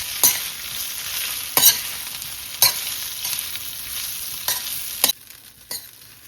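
Methi-dudhi muthiya are stirred and fried in a pan, with a soft steady sizzle beneath several sharp scraping clacks of the spoon against the pan spaced roughly a second or more apart, close and clear without talk.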